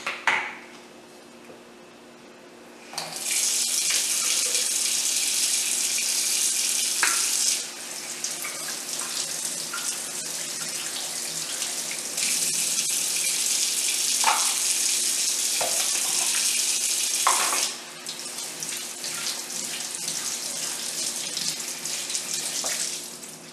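A kitchen tap runs with a steady broadband rush while strawberries and blueberries are washed, switching on after a few seconds of quiet, shifting in tone as the flow is interrupted, then continuing close and loud without talk.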